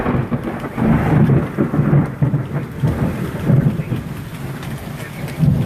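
A thunderstorm over Charlotte brings repeated low rolls and rumbles of thunder over a steady wash of falling rain, loud and sustained with swelling peaks.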